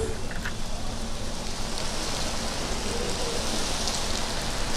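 Heavy monsoon rain pours down in Mumbai as a dense, constant hiss of drops hitting surfaces, steady and loud throughout with no voices.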